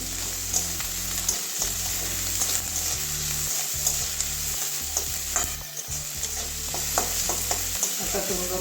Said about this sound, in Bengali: পেঁয়াজের কাঁচা গন্ধটা যাওয়া পর্যন্ত ভেজে নেবো